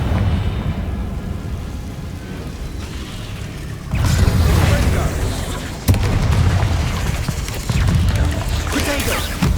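A Confringo fire spell bursts in Hogwarts Legacy with loud booming blasts, and a fresh explosion hits around each few seconds over a rumbling game background while a voice shouts spell names.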